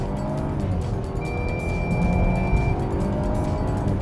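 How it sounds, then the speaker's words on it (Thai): A car on Continental ComfortContact CC7 tires brakes hard from 80 km/h, a brief tire squeal rising over the steady roar of engine and road noise, recorded from inside the car. "นี่คือเบรกหนักจริงนะ"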